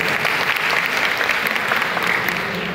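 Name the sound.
applause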